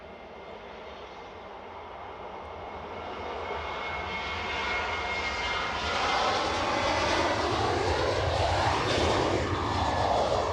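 A jet airliner coming in to land at Edinburgh Airport roars steadily and grows louder as it nears, its engine whine rising to a broad, sweeping rumble with no talk.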